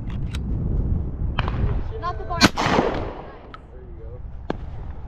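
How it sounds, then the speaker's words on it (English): A 12 gauge Beretta shotgun fires during white-winged dove hunting in Mexico, a sharp close blast over windy outdoor noise, with a few fainter distant pops and people talking. "So I'm shooting a 12 gauge."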